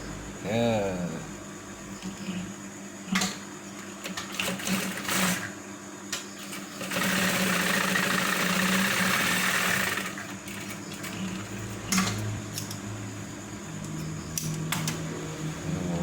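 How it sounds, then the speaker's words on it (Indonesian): A sewing machine stitches the inner lining of a slanted trouser pocket to the pocket fabric, running in bursts with a steady loud whir in the middle, while a person talks over and between the runs. "Langsung ini dalamnya dijahit ke kain kantong"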